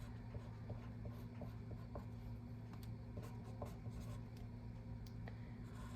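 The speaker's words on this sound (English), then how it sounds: "So, I draw my little diagram." A pen writing and drawing a small chemistry diagram on paper, faint scratchy strokes in short bursts over a steady background hum, close and without talk.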